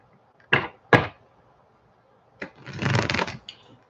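A deck of worn psychic reading cards being shuffled in a quiet room: two brief riffling bursts close together, a pause, then a longer, louder shuffle, all near and with no talking.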